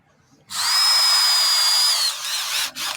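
Power drill countersinking screws into skateboard ramp sheets: a loud, steady high-pitched whine for about one and a half seconds, then dropping in pitch as it slows, with a short final burst.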